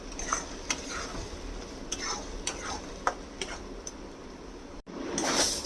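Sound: stirring bottle gourd peel in a pan until dry

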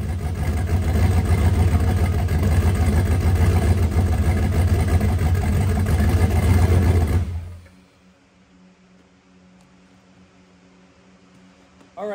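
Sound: race car engine idling roughly

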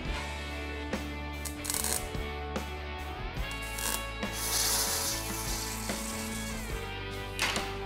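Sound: cranking 3/16 round rod through grooved rollers

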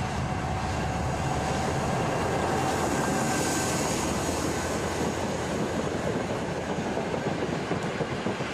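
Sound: V65 diesel locomotive rolling past

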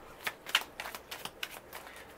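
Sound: shuffling tarot cards

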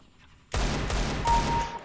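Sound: AK rifle gunfire in a video game

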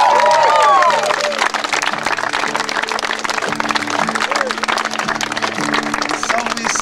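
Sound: applause

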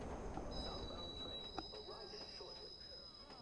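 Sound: train passing in the video game Watch Dogs

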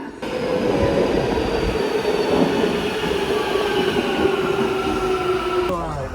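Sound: Istanbul metro subway train running

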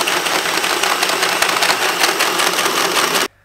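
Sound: 2-inch hole saw cutting a hole in metal

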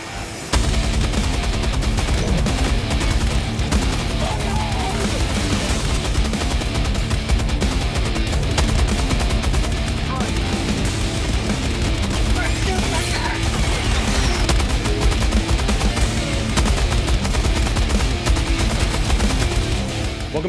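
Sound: MG-206 heavy machine gun firing in video game Helldivers 2

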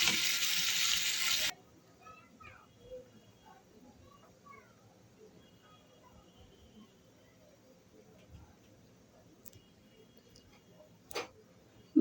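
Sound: stirring and frying potatoes and prawns in spices

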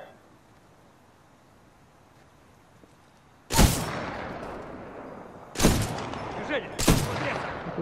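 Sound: sniper rifle shots, video game

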